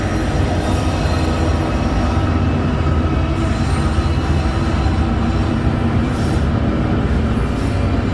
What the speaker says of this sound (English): So this is a goods train going through now.